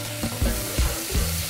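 Minced garlic and chopped onion sizzle in a frying pan, a steady broadband hiss broken by a few soft stirring knocks, close and fairly loud with no talk.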